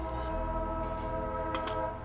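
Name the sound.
passing train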